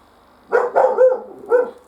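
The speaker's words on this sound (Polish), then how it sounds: "Zawsze szczekasz jak nagrywam." A pet dog barks indoors, close and fairly loud: a quick run of three sharp barks followed by a fourth after a short pause.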